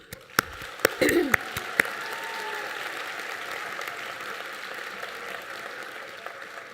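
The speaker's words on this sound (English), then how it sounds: "I applaud all of you" An awards ceremony audience applauds award-winning students, with a few sharp, loud claps up front followed by a softer, steady wash of clapping from a crowd at a distance.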